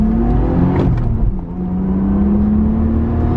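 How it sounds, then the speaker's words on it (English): Mitsubishi Evo pulling hard in first or second gear, a loud, steady engine drone close by that climbs in pitch over a heavy low rumble, with a brief dip partway through. "I want to give you a little first or second gear pull"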